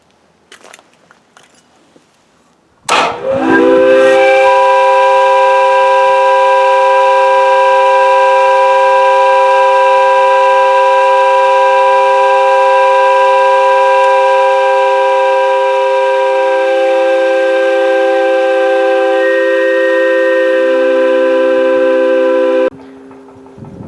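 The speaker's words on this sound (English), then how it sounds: "This is a low pressure whistle." A homemade low-pressure whistle driven by a multistage centrifugal blower sounds a loud, steady chord of several stacked tones for about twenty seconds, starting abruptly and cutting off near the end.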